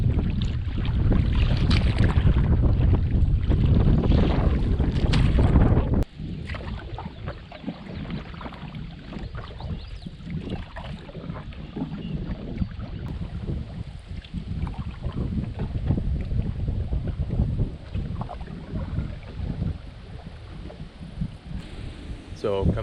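Wind buffets the microphone on a solo canoe trip, giving a loud, continuous rumbling roar with gusty swells, steady throughout with water and boat noise mixed in.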